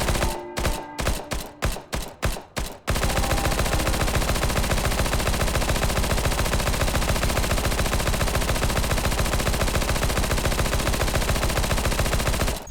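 A P90 submachine gun in a Source Engine 2 game fires a few separate short bursts, then one long, loud, rapid-fire stream that runs unbroken for about ten seconds.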